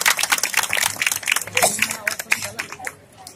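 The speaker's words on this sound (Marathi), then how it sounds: "एक वेळ जोरदार टाळ्या वाजून आपण कार्यक्रमाला सुरुवात करू" Audience applause at a Marathi comedy show, a dense burst of many hands clapping that fades toward the end, with a voice speaking over it.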